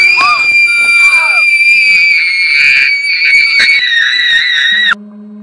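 A girl in a film scene lets out a long, loud, high-pitched scream that holds for several seconds, wavering slightly before cutting off abruptly into quiet.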